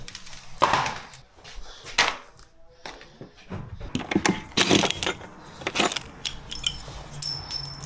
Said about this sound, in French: toutes les vis, je les fais tomber